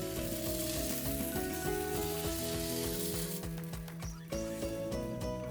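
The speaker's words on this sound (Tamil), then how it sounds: "இப்போ நான் இதுக்குள்ளே ஒரு வரண்டி தோசை மாவை ஊற்றுறேன்" Dosa batter sizzles and fries on a hot pan, a steady close crackle under soft background music, with no one talking.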